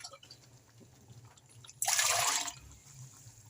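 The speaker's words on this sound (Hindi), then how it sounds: "पानी जैसे हम डालेंगे इसमें फिर ये बढ़ते जा रहे हैं मसाले।" Water is poured into frying spice masala for an aloo gobi curry, a short loud hissing sizzle that bursts up then fades amid quiet kitchen sounds.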